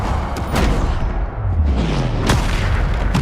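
Heavy booming blasts of the Bombarda explosion spell from the Hogwarts Legacy video game roll out in a loud, continuous rumble, with a few sharp impacts and whooshing spell sounds layered over the din.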